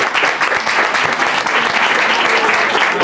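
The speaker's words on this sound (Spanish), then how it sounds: "Un fuerte aplauso, por favor" A loud, steady round of audience applause greets a woman introduced on stage at a 1998 season-end show, dense clapping filling the whole stretch without a break.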